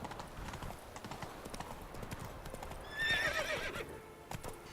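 Horse hooves clip-clop steadily while riding through The Witcher 3 video game, joined by a brief whinny around the middle, moderately loud against a soft ambient background.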